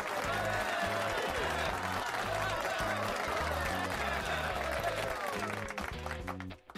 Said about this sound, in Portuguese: Uma salva de palmas para nós que estudamos o gráfico semanal.